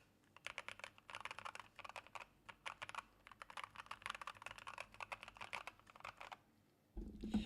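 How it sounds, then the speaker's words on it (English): Steady, fast typing on an IQUNIX ZX75 mechanical keyboard with Holy Panda switches, close and crisp, a continuous run of clacks for about seven seconds before a brief louder bump at the end. "how keyboard sounds."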